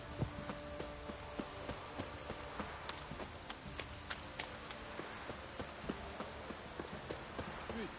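Faint rain patters under steady clip-clop of horse hooves in The Witcher 3: Wild Hunt, a soft rhythmic trot with occasional sharper ticks, quiet and game-like.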